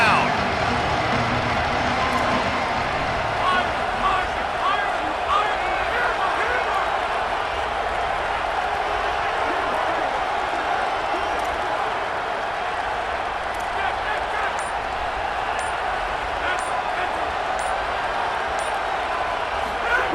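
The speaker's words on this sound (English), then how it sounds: "The Red Raider crowd rising to the occasion to help its defense on 3rd down" A Red Raider stadium crowd roars on third down in EA Sports College Football, a steady, dense wall of crowd noise lasting throughout under a commentator's voice.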